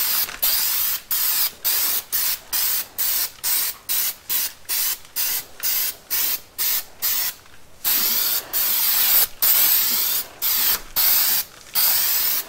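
Fluid Film rust protection is sprayed from a regular aerosol can along the frame of a Toyota 4Runner: about twenty short, sharp hissing bursts in a quick, even rhythm, close and alone.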